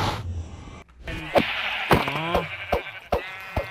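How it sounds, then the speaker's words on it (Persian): Sheep bleating in the video game Minecraft: several wavering, nasal bleats in quick succession against a faint buzzing background, close and fairly loud, with no talking. "بمیرید ای گوسفندای"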